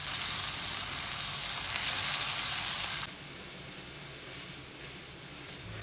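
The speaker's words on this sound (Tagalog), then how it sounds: "nag-start na rin ako maggisa ng luya, sibuyas at bawang" Ginger, onion, garlic and tomato sautéing in a hot pan with butter, a steady loud sizzle and hiss that drops to a quieter, softer frying crackle partway through, with no voices.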